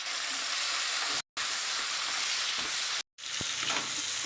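Ground spices—turmeric, coriander and cumin powder with Kashmiri chilli—frying for a fish curry, a steady close bright sizzle broken by two brief silent gaps, with a few soft stirring scrapes near the end.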